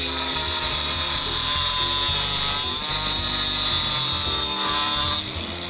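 Metal towel hanger bar, a large black bath-towel hanger, being cut, a continuous harsh grinding, ratcheting mechanical whine with a dense high buzz, close and loud, running steadily before dropping in level near the end.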